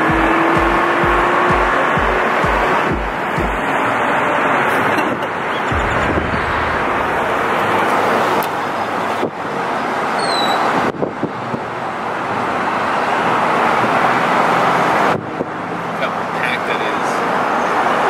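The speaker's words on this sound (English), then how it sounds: "Kind of like that there's traffic right now here." Steady, loud road noise and engine rumble come from inside a vehicle pulling a newly bought RV trailer through traffic, a continuous roar with occasional thumps and people talking over it.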